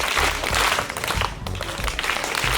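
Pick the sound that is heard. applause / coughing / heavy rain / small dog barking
applause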